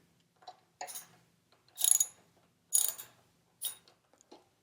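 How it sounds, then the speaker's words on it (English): A socket wrench loosening the top shock bolt on a Royal Enfield Interceptor 650 with a size 6 Allen head socket, producing several separate bursts of close ratcheting clicks in quiet surroundings. "To get the top bolt out of the shock, you can use a size 6 Allen head socket."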